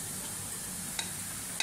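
Onion pieces frying lightly in a pan for egg fried rice, a steady soft sizzle with a couple of sharp stirring scrapes near the end, close and alone.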